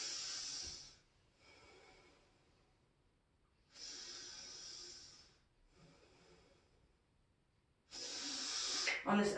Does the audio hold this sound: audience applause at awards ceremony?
no